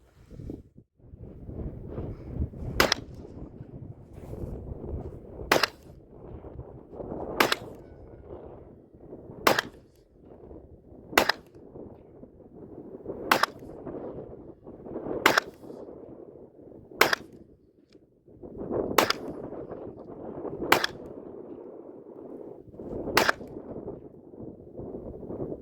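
A Sig P365XL pistol fires about ten sharp, loud shots at an outdoor range, each spaced a couple of seconds apart, with wind noise rumbling underneath.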